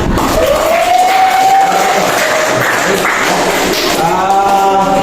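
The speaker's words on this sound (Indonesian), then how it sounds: "Kasih tepuk tangan." Students applauding and cheering classmates in a classroom, loud close clapping mixed with shouts and children's voices, a high whistle-like cry rising near the start and chanting tones returning toward the end.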